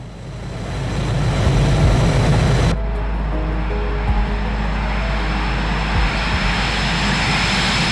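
Jet airliner, a Boeing 727, climbing out after takeoff from San Diego: a loud, steady broadband engine roar that swells over the first seconds and then holds as a continuous drone with no talk.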